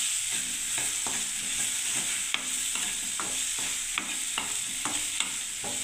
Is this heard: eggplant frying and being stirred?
yes